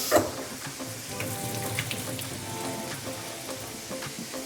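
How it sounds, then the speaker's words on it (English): Fresh spinach rinsed under a running kitchen tap gives a steady, close hiss of splashing water that runs alone through the whole stretch, opening with a brief louder splash. "Now, let's start with our spinach. We'll rinse it off for a quick second."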